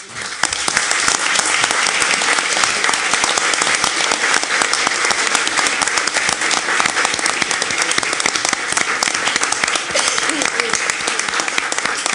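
School board meeting audience applauding certificate recipients, a long, loud, continuous round of dense clapping that holds evenly throughout.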